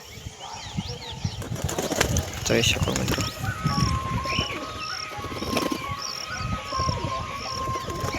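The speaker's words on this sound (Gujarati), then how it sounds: "આપણા કબૂતર ઉડોવી ગયા છે ઉડે છે" A flock of trained pigeons takes off and circles, with bursts of flapping wings and occasional coos and chirps mixed into outdoor noise while someone talks throughout.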